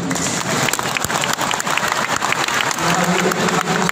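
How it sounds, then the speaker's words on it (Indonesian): Audience at a Muhammadiyah anniversary mass gathering in a sports hall applauds steadily, a dense wash of many hands clapping continuously throughout with crowd murmur underneath. "Tolong ada tepuk tangan."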